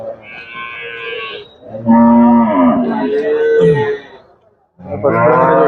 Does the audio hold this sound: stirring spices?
no